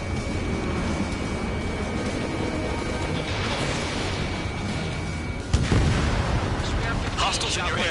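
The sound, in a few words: missile launch and explosions in Ace Combat video game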